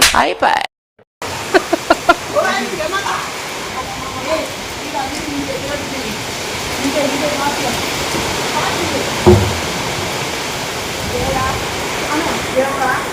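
Water pours into a storage tank in Vizag, a continuous loud rushing hiss after a brief dropout at the start, with voices occasionally heard over it.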